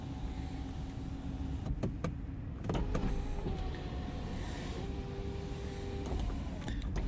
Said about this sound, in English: Sunroof, electric sunroof, all sort of operational.